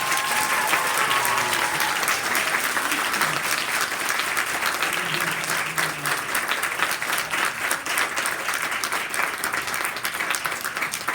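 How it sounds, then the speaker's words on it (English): A ceremony audience claps in a big, continuous round of applause as a family is welcomed on stage at a kid governor announcement, steady and full for the whole stretch, with a few indistinct voices mixed in. "give them a big round of applause"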